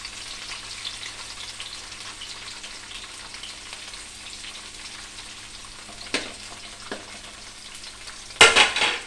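Chopped tomatoes sauté in a pan for ginisang monggo, a steady close sizzle with a couple of utensil knocks and a louder burst of frying near the end; no one speaks.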